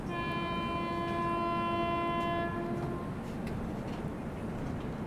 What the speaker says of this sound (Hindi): ये देखो, ये है ऑरेंज वंदे भारत और बहुत ही स्लो रफ्तार में आ रही है